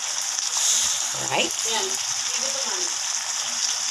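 Steady bubbling sizzle of sardines boiling in a pan, continuous and close, with a brief spoken word over it.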